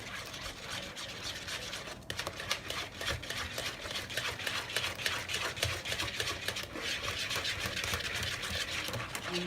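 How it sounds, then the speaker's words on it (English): A whisk mixing jelly with cream in a bowl, a soft, continuous scraping and swishing that stays close and fairly faint throughout. "I use the whisk."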